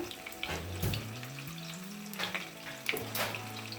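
An egg frying in oil in a pan for a dhaba-style egg curry, a soft steady sizzle with faint crackles and a low hum of kitchen noise underneath.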